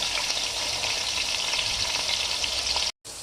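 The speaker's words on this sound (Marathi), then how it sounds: "मी वांगी आता मस्त खरपूस करून घेणार आहोत आपण वांगी आता" Brinjal (eggplant) pieces fry in a hot pan, giving a loud, steady, close sizzle and crackle that runs almost without pause, then cuts out briefly near the end.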